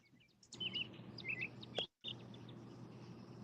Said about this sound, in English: I hear birds chirping in the background where Tammy is